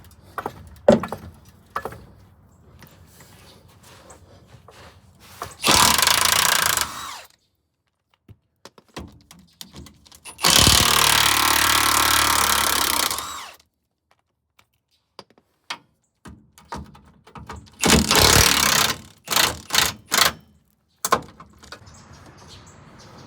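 Tools at work removing the transmission from a first-gen Toyota pickup, with bursts of loud whirring or ratcheting separated by quiet gaps, then a string of sharp clanks and knocks near the end.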